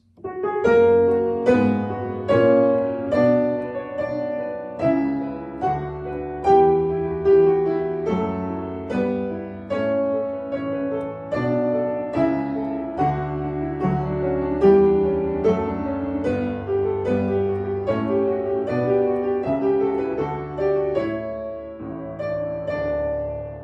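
Pipe organ playing the flowing second theme of a Bach organ sonata, sustained chords under a moving melodic line, steady and full throughout with no voices.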